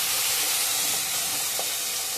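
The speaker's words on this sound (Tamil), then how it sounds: "கடுகு பொரிஞ்சதும்" Mustard seeds in hot oil in a kadai for coriander thokku: a loud, dense, continuous sizzling hiss close up, with barely a distinct pop standing out.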